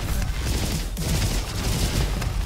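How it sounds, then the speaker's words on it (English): Torpedo rifle firing homing explosive shots in the Roboquest action roguelike game, a dense, continuous barrage of blasts and booms filling the whole stretch at steady loudness, with no talk. "I like the torpedo rifle."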